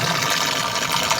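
Spring water rushes through a covered pipe in a Seethampeta tribal village, a loud, continuous gushing with no pauses and no voices.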